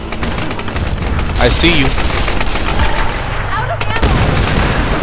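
Rapid machine-gun fire rattles in sustained bursts with scattered heavier shots during a Tomb Raider multiplayer match, loud and close, with a brief line of speech over it.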